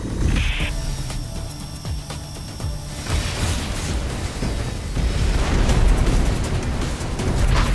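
A frostbite cannon firing in the X-Morph: Defense video game, aimed at defense towers. A loud booming blast opens, followed by a long roaring, crackling rumble that swells again toward the end, close and continuous with no voices.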